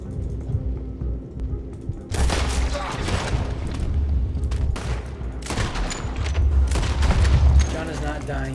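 Gunfire in Red Dead Redemption comes in loud, repeated volleys of shots and booms, with a person talking over the fighting.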